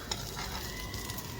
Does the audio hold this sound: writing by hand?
no